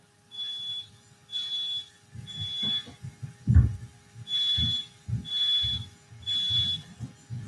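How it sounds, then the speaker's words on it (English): A household smoke alarm beeps in six evenly spaced high tones over about seven seconds, separated by short gaps, loud and close, with low thumps and room noise underneath during a yoga session. "That's my smoke alarm."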